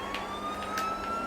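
An emergency vehicle siren in the video game GTA 4 wails steadily as a continuous tone under engine and traffic noise, with a few short bursts layered over it.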